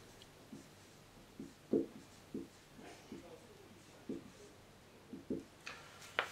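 Marker or chalk scratching on a board during an optimization lecture, heard as a string of short, separate scrapes and taps at an uneven pace. The strokes are close and moderately loud, with quiet room tone between them.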